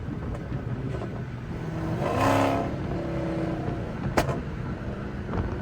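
A tuned Dodge Hellcat on a city street in St. Louis, its engine noise swelling into a loud rev for a moment before falling back to a steady rumble, with a sharp knock near the end.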